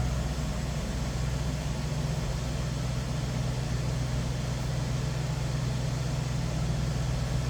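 A 1976 Lincoln Mark IV V8 engine idles steadily with a low, constant rumble and hum, unchanging throughout, no talking.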